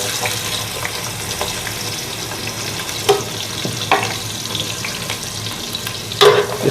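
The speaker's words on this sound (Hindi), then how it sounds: "इसमें हम ऑयल थोड़ा सा गर्म हो जाने के बाद हम इसके अंदर प्याज डालेंगे" Onions frying in hot oil in a pan, a steady close sizzle with occasional louder spits and stirring scrapes, no talk.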